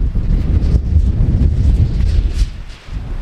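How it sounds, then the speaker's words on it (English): Strong wind gusting at night outside a cabin under construction, a steady low roar with rustling surges that swell and ease without a break, close and fairly loud. "the wind they were calling for hours ago is now here"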